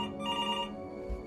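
A telephone ringing in the video game Before Your Eyes: a bright electronic ring with a steady tone, fairly quiet, followed by a brief low thump.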